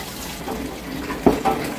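Water trickles and pours into kahk dough made of flour and yeast, a soft continuous splashing with a couple of brief louder splashes near the end.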